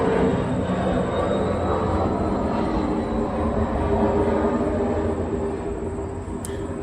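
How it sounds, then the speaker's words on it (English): A loud, steady low roar of a passing aircraft fills the whole stretch, with broadband rumble that eases slightly toward the end; no talking. "here comes a plane. It's gonna get loud."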